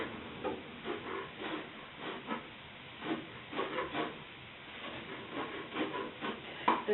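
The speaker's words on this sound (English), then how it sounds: "So I remove the needles and just chop it up just like this." Chef's knife chopping fresh rosemary needles on a wooden board, a run of soft, quick, irregular taps close by with no talking.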